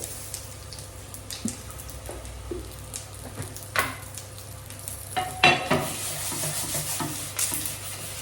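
Whole cumin seeds sizzle in hot oil in a pan for a potato and eggplant vegetable curry, a steady crackle broken by scraping stirs and bright spitting pops.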